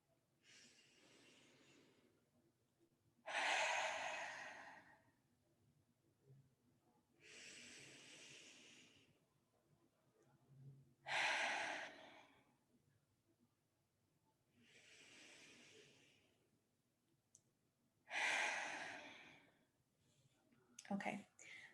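Three slow, deep breaths during a mindfulness exercise, each inhale and longer exhale clearly audible and close, evenly spaced with quiet pauses between.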